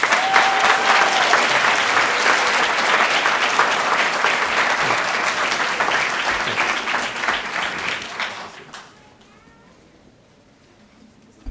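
A large audience at a university economics graduation ceremony applauds PhD graduates in a dense, loud, steady wave of clapping that lasts about eight seconds and then dies away into quiet room tone.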